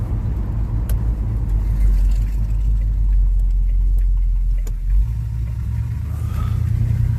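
Chevrolet Monte Carlo engine idling after a cold start, a steady deep rumble close by with slight unevenness and a brief rev near the end.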